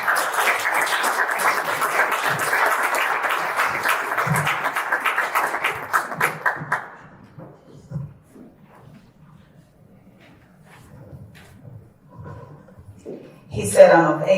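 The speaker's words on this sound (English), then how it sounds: "would you help me give a round of applause to Dr." Audience applause at a 2024 MLK event, dense steady clapping for about seven seconds that then stops abruptly, leaving a quiet room with faint murmurs and a voice at the end.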